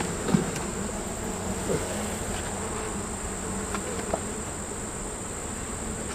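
Honeybee colony buzzing in an open hive during a beekeeping inspection, a steady close hum throughout with a few faint knocks and taps from handling the frames.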